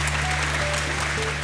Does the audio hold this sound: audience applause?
yes